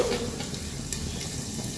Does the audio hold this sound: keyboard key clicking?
no